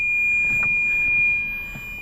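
A Ferrari's immobilizer alarm system sounds a steady high electronic tone lasting the full two seconds, close and clear over faint background noise, with a few soft knocks underneath.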